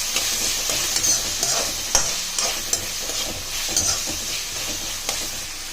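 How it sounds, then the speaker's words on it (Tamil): Chopped tomatoes sauté in a pan for a mushroom stuffed dosa filling, a close, even sizzle punctuated by regular scraping stirs of a spatula, with no voices over it. "இந்த தக்காளியை நல்லா வதங்கணும்."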